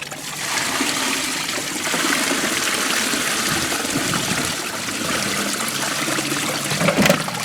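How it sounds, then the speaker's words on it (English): Running water rinses a soaked part from a car restoration, a steady splashing stream with trickling tones that continues almost unbroken, fairly close, with no talk. "We'll rinse it off and see what we got."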